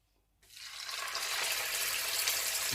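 Coffee and black pepper rib-eye steaks hit a hot pan and burst into a loud, steady sizzle that starts abruptly and keeps hissing evenly, with no voices.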